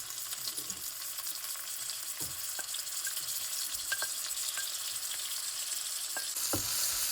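Tomatoes frying in a pan for a Goan cauliflower caldin curry, a soft, steady sizzle with scattered light clicks and stirring taps, fairly quiet and without talk.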